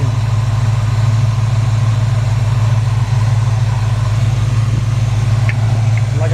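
A 1963 Chevrolet C-10 Fleetside truck engine idles smoothly and loudly close by, a constant throbbing low rumble with steady firing pulses, and a few faint sounds near the close.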